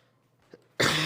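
One sharp, harsh cough bursts out close and loud after near silence, preceded by a faint throat sound.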